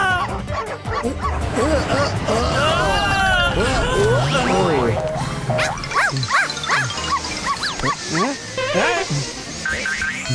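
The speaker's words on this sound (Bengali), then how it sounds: "আরে কুকুরগুলো তো আমাদের পিছু ছাড়ছে না।" A pack of dogs barks loudly during a chase, with overlapping yips, whimpers and sharp barks in quick, irregular bursts close by, over excited human voices.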